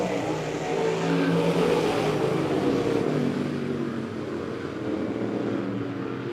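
USRA stock cars roar past on a speedway, a dense, loud engine drone that swells and holds as the pack goes by, then eases slightly toward the end.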